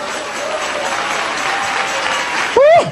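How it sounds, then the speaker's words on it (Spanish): Steady crowd applause at a Christian church testimony fills the space evenly, a dense wash of clapping, ending with a brief rising shout or whistle. "Dale ese aplauso a Jesús."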